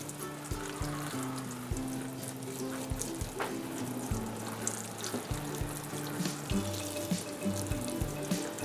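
Water poured onto potting soil while repotting a house plant, a continuous close trickling and splashing stream that runs steadily throughout.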